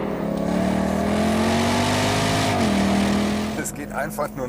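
A Mercedes SLK 55 AMG with an automatic gearbox and V8 engine accelerates hard, its deep tone rising steadily then dropping at a shift, loud and close, before the roar fades out.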